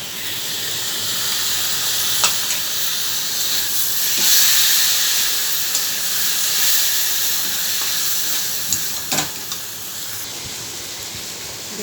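Spice masala frying in hot oil, a steady loud sizzle and hiss throughout with a few faint clinks of a stirring utensil, no voices.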